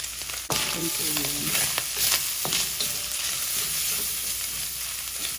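Garlic and ginger drop into three tablespoons of hot oil and sizzle steadily, with a sharp start and the scrape of stirring throughout.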